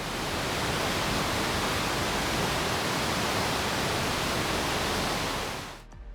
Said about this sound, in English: soon you should start to hear the roar of Lower Falls